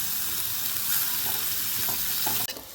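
Onions for a pressure-cooker biryani fry in a pan with a loud, continuous close sizzle and occasional stirring scrapes, ending in a sudden drop near the close; no one speaks.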